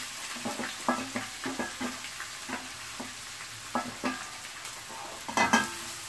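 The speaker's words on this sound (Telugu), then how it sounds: "ఇవి కొంచెం గోల్డెన్ బ్రౌన్ కలర్ వచ్చిన దాకా వేయించుకుందాము" Finely chopped onion and green chillies frying in a pan, a soft continuous sizzle broken by repeated scraping stirs of a spoon, fairly quiet and close.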